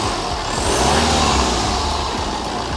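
A loud, close BMW E90 320d diesel engine roars steadily and rises slightly in pitch as it is revved, a continuous throaty rumble with no talking.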